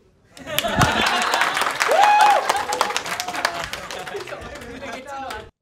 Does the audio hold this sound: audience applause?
yes